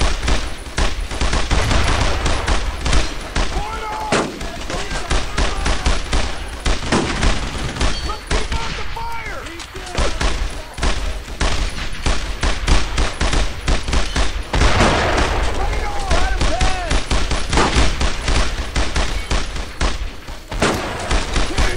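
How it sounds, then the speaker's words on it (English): Continuous bursts of rapid gunfire and explosions in a World War II video game battle crackle throughout, with occasional shouting voices mixed into the chaotic noise. "You can hear all this fire going off"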